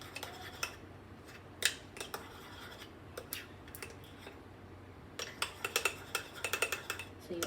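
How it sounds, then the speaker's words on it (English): Cheesecake batter being stirred into warm gelatin in a bowl for a no-bake raspberry cheesecake, with quiet, irregular clinks and scrapes of a utensil against the bowl, some spaced out and others bunched into quick runs. "So you add a bit of batter and mix, mix, mix, mix, mix."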